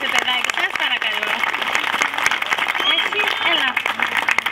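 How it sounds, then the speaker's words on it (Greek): An audience claps continuously and fairly loudly at a school celebration in Neochori, Greece, with voices talking over the applause. "Ένα χειροκρότημα για το κάθε παιδάκι, σας παρακαλώ."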